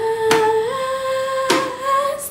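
Ukulele chords, with two sharp strums ringing into sustained, steady tones, played up close with no talking.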